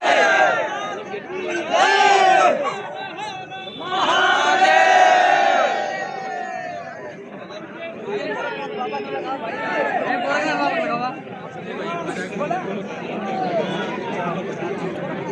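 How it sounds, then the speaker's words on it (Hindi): A large, dense crowd gathers at a singing audition in Gorakhpur, with loud overlapping voices and shouting in swelling waves, chatter and calls mixing close by and at a distance. "बम्पर बहुत भीड़ लगा हुआ है।"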